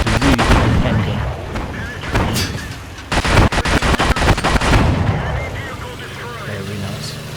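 Tank gun fire in the video game World of Tanks on the Karelia map from a Little Fritz II J, with booming blasts, a rapid burst of cracking shots and a low rumbling engine drone throughout, fairly loud and close.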